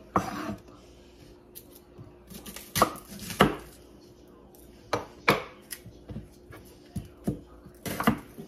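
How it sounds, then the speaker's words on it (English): Knife chopping celery on a cutting board, sharp irregular thuds in short bursts, close and fairly loud, with occasional clinks of kitchen utensils in between. "let's start chopping up this questionable celery"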